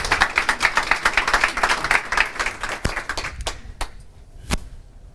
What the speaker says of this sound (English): give the two a big applause